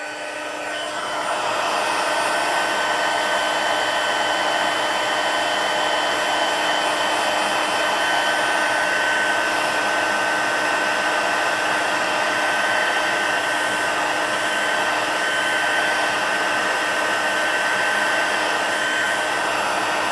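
A hair dryer blowing on wet chalkboard paper, switching on and then holding a loud, steady whirring hum for the whole stretch with no talking.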